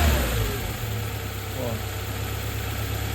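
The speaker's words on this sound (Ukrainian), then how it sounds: "Мотор шепче. Треба прогріти." A rear-wheel-drive car engine warming up in winter idles steadily with a low, constant rumble close by, running smoothly without revving.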